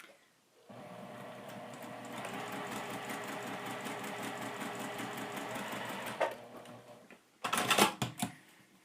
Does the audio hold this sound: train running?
no